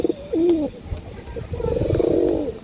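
Pigeons offered for sale in Hooghly coo in low, throaty rolls, with a short call early and a longer, louder coo toward the end. Both calls are close and clear over a faint background hum.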